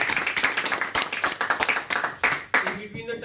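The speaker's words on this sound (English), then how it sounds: "Let's clap for Toastmaster" Audience applause at a Toastmasters club farewell ceremony for outgoing executives, a short burst of scattered clapping from a modest group, fairly close and steady, fading out after about two and a half seconds.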